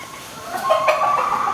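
A gamecock rooster clucks nearby in a short burst of throaty calls, fairly clear against a quiet background.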